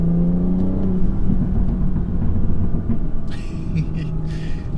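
A BMW 340i Performance engine rumbling at low speed, a near, steady drone with a rising whir, and a burst of crackle toward the end.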